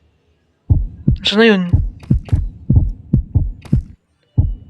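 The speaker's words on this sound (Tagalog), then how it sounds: "May heartbeat." Thumping heartbeat sound effect from a Minecraft horror addon, a series of loud, close low pulses in an uneven rhythm, with a voice speaking briefly over the start.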